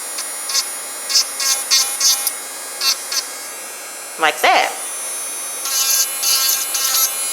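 A Melodysusie Scarlet electric nail drill fitted with a tungsten bit whines in short, repeated high-pitched bursts over a faint steady hum, with a brief spoken voice midway.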